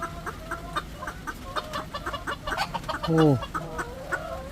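A broody heritage hen, sitting on eggs, gives agitated clucks and short squawks close by, with a sharper harmonic call near the end, while a person talks briefly over it.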